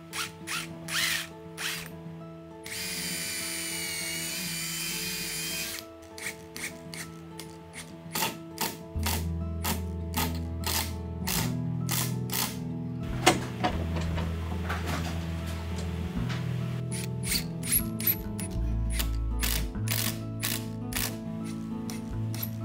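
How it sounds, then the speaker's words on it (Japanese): Screws are driven from the back side into wood panelling held with clamps, giving rapid clicking ratchet-like mechanical bursts and repeated short ticks over a steady tonal hum, with no talking. "クランプをかけてやって、そして裏側からビスで留めます。"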